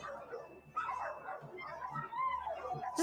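A dog yips, whimpers and gives short barks in bursts, close by, with people talking over and between the sounds.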